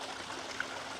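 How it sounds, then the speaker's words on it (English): Water runs steadily through an interconnected garden stream with waterfalls, a continuous even rush and trickle with no talk over it. "It's an interconnected stream."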